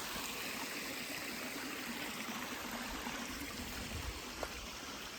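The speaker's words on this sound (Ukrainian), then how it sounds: "Води дуже багато в горах. Тече зі всіх боків." A Carpathian mountain stream runs swollen after a season of heavy rain, a soft, steady rushing and trickling of water heard at moderate distance with no voices.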